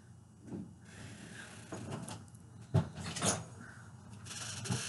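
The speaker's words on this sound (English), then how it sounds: "There goes the front door." A front door opens or closes indoors at a distance, a few soft knocks and thuds standing out over a quiet room.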